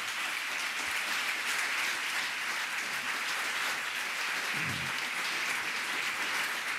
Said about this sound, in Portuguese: Merece também o nosso aplauso.